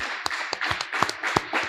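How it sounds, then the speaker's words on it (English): Audience applause for a community figure honored at a police-themed talk event, a burst of scattered claps with a few sharp louder hits over about two seconds. "let's give her a round of applause"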